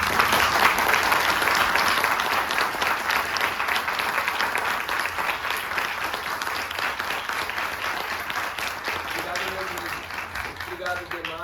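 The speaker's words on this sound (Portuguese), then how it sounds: "agora, por favor, uma salva de palmas para a" A round of applause from the audience at a bookstore talk, sustained and fairly loud from the start and tapering slightly over the length, with a voice starting to speak near the end.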